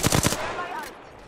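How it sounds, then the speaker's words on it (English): Rapid automatic gunfire in a shooter video game, a loud burst of close shots in the first half-second, then ringing decay. "Opening fire."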